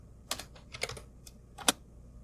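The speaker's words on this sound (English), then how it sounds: "so I'm going to type that" A few light computer keyboard keystrokes, spaced taps with one sharper click near the end, close and quiet, no voices present.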